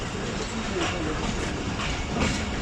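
Thall Express passenger train in Pakistan departing a railway station, a steady close rumble of wheels on rails with faint rhythmic clatter throughout.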